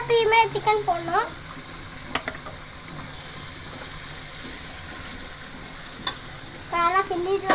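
Native country chicken for biryani being stirred as it fries in a pot: continuous sizzling hiss with scraping stir strokes, and short bursts of a voice at the start and end.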